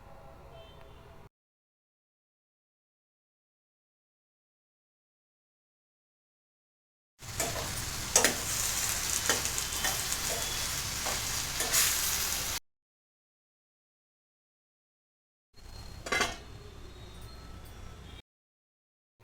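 Bottle gourd curry with curry leaves fries and hisses in a pan, heard close in two separated bursts with stirring scrapes, between long stretches of silence.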